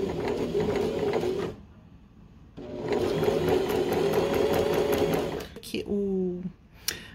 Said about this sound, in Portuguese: Bom, então eu vou iniciar, já fiz o retrocesso e a gente vai costurar toda a borda.